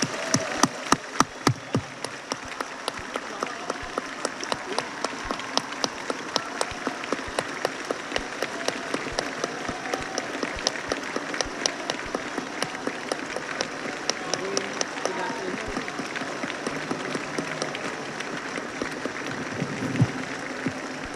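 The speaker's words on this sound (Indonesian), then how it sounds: "memberikan tepuk tangan yang meriah sekali lagi" Assembly hall at an Indonesian presidential inauguration filling with prolonged applause from a large gathering, a dense sustained patter with a few sharp claps standing out early and near the end.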